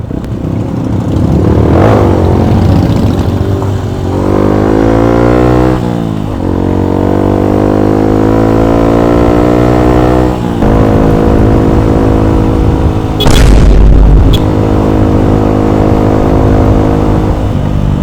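A Suzuki Shogun motorcycle engine revving up and down through gear changes as it rides, loud and close, with a brief wind gust near the end.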